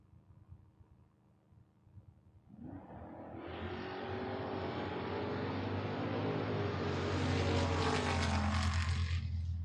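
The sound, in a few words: Dodge Dakota pickup and Mustang drag racing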